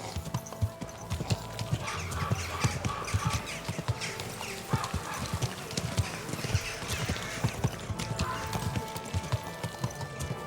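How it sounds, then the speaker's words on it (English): Horse hooves clip-clop in a quick, steady rhythm on a road in Kingdom Come: Deliverance 2, close and continuous, with soft ambient noise and a faint whinny-like sound in the mix. "Easy, good horse."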